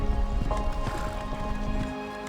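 A horse moving across an equestrian arena, its muffled hoofbeats thudding softly under sustained tonal music.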